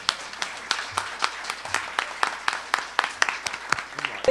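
Applause of thanks for speakers at a literary poetry event, a sparse, evenly paced run of distinct claps from a modest crowd, close and clear with no talk.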